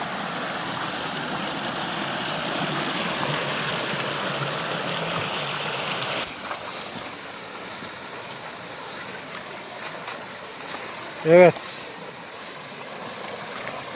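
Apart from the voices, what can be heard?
mountain stream water flowing, small waterfall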